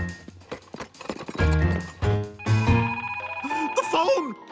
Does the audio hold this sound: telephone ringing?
yes